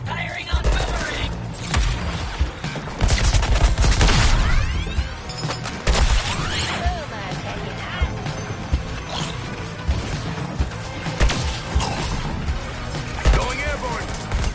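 Gunfire crackles in the video game Suicide Squad: Kill the Justice League, with bursts of shots, crashes and whooshes layered in a busy, loud combat mix while voices talk over the action.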